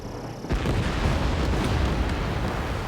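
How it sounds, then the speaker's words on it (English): Missile launch and explosion in Ace Combat 7: a sudden loud blast erupts about half a second in, then a sustained roaring rumble holds steady through to the end. "H2, missile launch."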